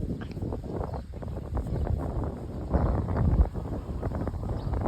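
Strong outdoor wind buffets the microphone as a kite flies overhead, a continuous rough rumble that swells and eases without any voices.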